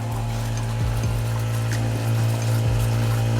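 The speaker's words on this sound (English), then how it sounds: "It's pretty loud though. That's what happens when you buy a cheap pump." A cheap water pump runs loudly inside a camper van, a steady low mechanical hum with constant rattling drone that holds level throughout, no voices over it.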